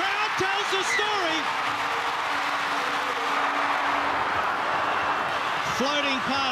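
A stadium crowd at a Super Rugby Pacific match between Fijian Drua and Hurricanes keeps up a steady, broad roar of cheering and applause, with a commentator talking over it throughout.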